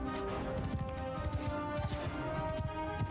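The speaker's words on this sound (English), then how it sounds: "I think our cavalry is also charging" Cavalry horses gallop in the Mount & Blade II: Bannerlord battle, a dense, steady drumming of many hooves close by, with a constant rumble and a few sharp crashes mixed in.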